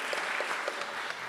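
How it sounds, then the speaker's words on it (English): Church congregation applauding, a steady, fairly loud patter of many hands clapping together over a short stretch, with no voices. "Sporadic applause, thank you."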